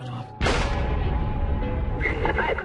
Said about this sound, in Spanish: Entonces sonó el tercer disparo.